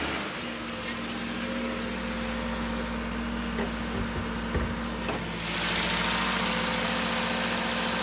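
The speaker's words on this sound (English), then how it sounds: "We are going to start the engine and give you a look under the hood." A 2017 Subaru Legacy 2.5i sedan with a 2.5-liter four-cylinder engine idles steadily under the hood, a low even hum with a few light clicks, rising slightly louder near the end as the engine settles.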